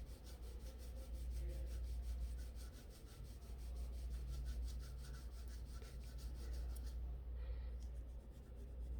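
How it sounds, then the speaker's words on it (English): A crayon is rubbed lightly across paper in steady scratchy strokes, with a continuous soft rasping texture that runs throughout at close range, with no voices. "Sometimes it helps if you hold the crayon very loosely or softly in your hands, and you still have to try to color those peekaboo spaces."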